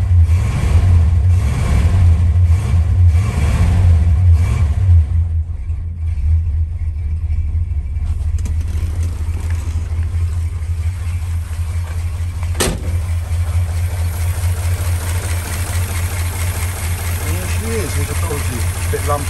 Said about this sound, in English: I've changed the carb and it will just pull away on tick over nice and smooth